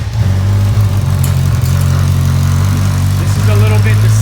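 A 2016 Kawasaki Versys 1000 motorcycle engine idles with no exhaust pipe fitted, a loud, raw, uneven rumble, close up, while a voice talks over it.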